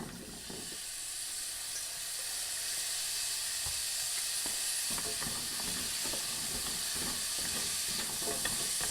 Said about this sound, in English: we're just gonna add them to this melted butter, and we're gonna saute them for just a minute or two